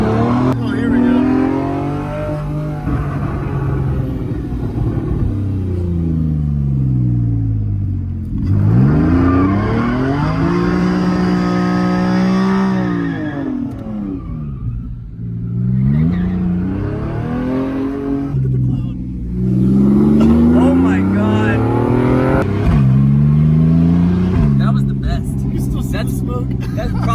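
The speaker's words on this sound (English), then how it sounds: "That's probably the best donut I've ever been in a car in, honestly." A car spins in tight donuts, its engine revving hard in repeated rising and falling sweeps while the tires squeal as they break loose; voices talk and whoop excitedly over the noise throughout.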